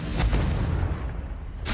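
A Confringo blasting spell from Hogwarts Legacy bursts with a deep, booming explosion at the start, then rumbles away and dies down, and a second sharp burst comes right at the end.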